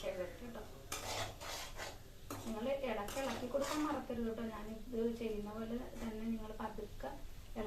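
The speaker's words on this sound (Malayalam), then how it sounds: "ഇളക്കി കൊടുക്കണം. ഉരുളക്കിഴങ്ങ് പൊടിഞ്ഞു പോകരുത്. പൊടിഞ്ഞു പോകാത്ത വിധത്തിൽ ഇളക്കുക." Potato roast with curry leaves being stirred in a pan, spoon clinks and scraping with a light sizzle underneath, while a person talks over it.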